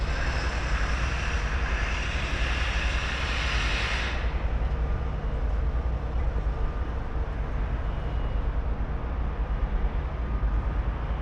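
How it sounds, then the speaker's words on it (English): An aircraft engine roars steadily overhead on a clear winter day in Blackpool, with a loud broad rumble that persists throughout and a brighter whine dropping away after a few seconds. "Got a helicopter up there as well."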